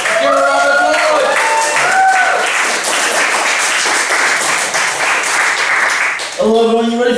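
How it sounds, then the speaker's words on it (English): Audience applause and cheering at a student comedy gig as the compere is introduced, a loud sustained burst of clapping, with a voice speaking at the start and again at the end. "Give a round of applause!"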